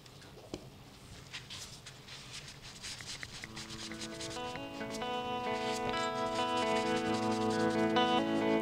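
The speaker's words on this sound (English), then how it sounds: "with the lathe stationery, I'm going to start rubbing it in down the bottom" Stone blue colour is rubbed into the base of a sycamore vase held on a stationary woodturning lathe, giving a soft, steady close-up friction hiss that grows gradually louder and denser toward the end, with a tonal hum building underneath.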